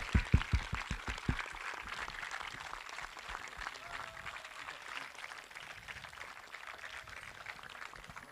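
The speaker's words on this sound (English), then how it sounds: "One round of applause for the IHS class of 2022-23." A graduation ceremony audience breaks into applause for the graduating class, opening with a few sharp, close hand claps before settling into a broad, sustained roar of clapping from the crowd.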